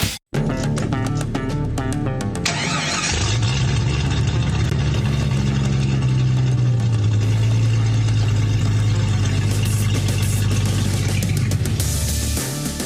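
A Jeep engine runs steadily, a loud, rough low rumble that holds constant after a brief burst at the start, with the pitch rising slightly midway as if revved a little.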